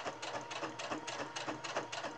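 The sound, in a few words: sewing machine stitching apron tie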